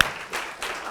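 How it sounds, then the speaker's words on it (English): An indoor audience at a business seminar applauds, a dense wash of clapping in short swelling bursts. "Earl, round of applause."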